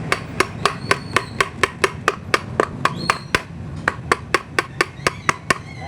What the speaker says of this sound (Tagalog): bali pukpukin natin ito ng martilyo